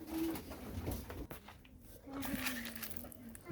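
Domestic pigeons coo close by in a low, rolling call that repeats through the moment, with faint rustling around them.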